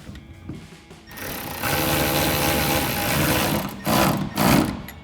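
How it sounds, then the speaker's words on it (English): A ratchet with a 14mm socket tightens a clamp bolt while installing a soft bed topper on a Jeep Gladiator JT, heard as a close, sustained whirring buzz after a short pause, ending in a few louder surges. "we can take a 14mm socket to tighten down our bolt"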